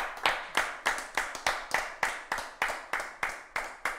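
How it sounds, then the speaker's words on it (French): In a football talk-show studio, the audience claps in unison in an even, quick rhythm, with about a dozen sharp, crisp claps spaced roughly a third of a second apart. "je crois qu'on peut applaudir pour cela encore une fois de plus"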